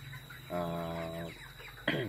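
Broiler chickens on a poultry farm give a drawn-out cluck followed by a short squawk, close and moderately loud against low barn noise, with no talk.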